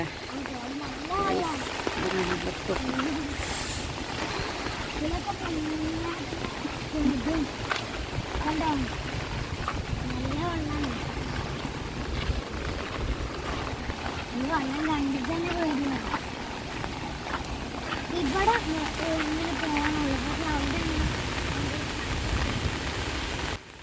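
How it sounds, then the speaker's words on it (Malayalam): A forest stream flows steadily beside a jungle path in Kerala, its constant watery rush filling the whole stretch at moderate loudness, while a voice talks intermittently over it. "അങ്ങനെ ഇതാട്ടോ നമ്മളെ അടുത്തുള്ള തോട്."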